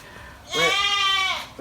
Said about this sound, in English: You hear the goat them?